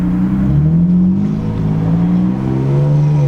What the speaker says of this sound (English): I feel like you floored it right there and we weren't moving